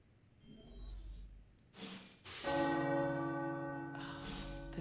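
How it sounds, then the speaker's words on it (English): Tower church bells ring out with sustained, resonant metallic tones, a couple of separate strikes followed by a long overlapping peal that lingers, with breathy vocal sounds nearby before the ringing. "The tower bells are ringing."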